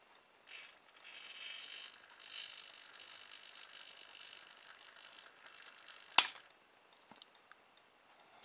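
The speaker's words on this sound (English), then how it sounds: "I'll just use my servo tester here to operate this servo." A small RC servo driven by a servo tester gives a faint, quiet mechanical whirr for a couple of seconds, then a single sharp click and a few soft ticks in near silence.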